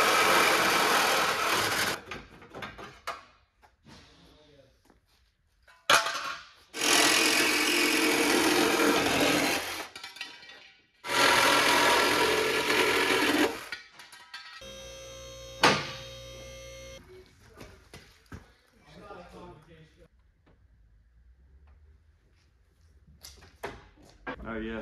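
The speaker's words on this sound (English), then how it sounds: "The other thing that we are going to cut is this little section here on the core support" A power tool cuts a small section out of the core support of a Nissan 240SX in a garage. It comes as several loud, harsh bursts of a few seconds each, separated by quieter gaps with handling noise and some talking.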